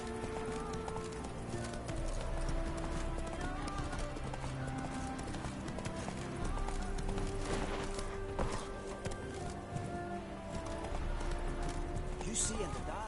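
Roach the horse's hooves clip-clop steadily in The Witcher 3 game world, set under dense layered music and ambient sound, with a voice talking over it.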